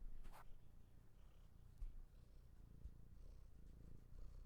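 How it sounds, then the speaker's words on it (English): Domestic cat purring softly up close, a quiet, continuous low rumble with a brief higher sound near the start and no speech. "All right, now you're purring."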